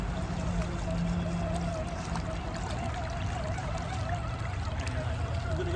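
An RC Land Rover Discovery churns through water, giving a constant close sloshing, splashing wash with a trickling texture and no clear breaks.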